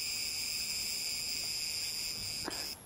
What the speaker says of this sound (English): Oh, you can hear the cicadas.